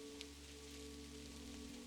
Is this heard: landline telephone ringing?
no